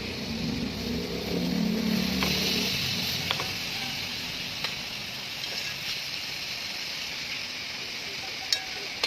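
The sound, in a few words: pork belly frying in its own fat for lechon kawali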